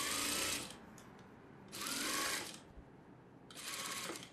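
A sewing machine stitches an edge seam on a blouse in three short, separate bursts with quiet pauses between them, close and moderately loud.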